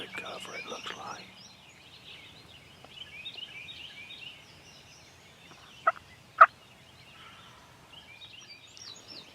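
A wild turkey gobbles from a distance, a faint burst of rapid gobbling at the start, followed by quiet rustling and two sharp nearby clicks or taps in an otherwise hushed outdoor setting.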